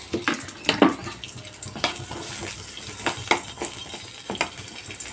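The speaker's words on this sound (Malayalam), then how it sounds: "ഇനി ഈ വെളിച്ചെണ്ണയിലേക്ക് തന്നെ ഞാനൊരു അഞ്ച് ചെറിയ ഉള്ളി കൊടുക്കുന്നുണ്ട് കേട്ടോ" Five small onions sizzle in hot coconut oil with a steady, bright crackling hiss throughout, broken by several sharp clinks and scrapes of a utensil against the pan.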